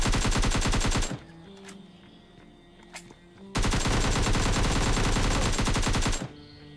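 Automatic gunfire in the mobile battle royale PUBG Lite: a long, loud, close sustained burst, a quieter pause with a couple of isolated shots, then another extended rapid burst.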